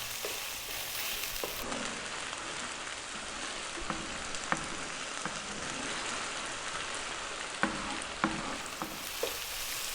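Chicken fried rice with peas stir-frying in a hot wok gives a continuous bright sizzle, broken by occasional scraping taps and clinks as the food is tossed and moved around.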